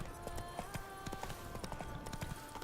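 Steady clip-clop of horse hooves in The Witcher 3, a quick regular trotting rhythm over a faint ambient bed, moderately close and without talk.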